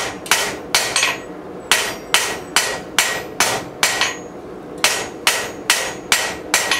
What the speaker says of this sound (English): We could have picked a heavier hammer for this job.